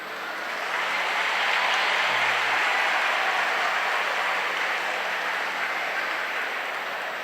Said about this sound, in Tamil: மாணவிகளிடமிருந்து நிறைய கைத்தட்டல் வந்திருக்கிறது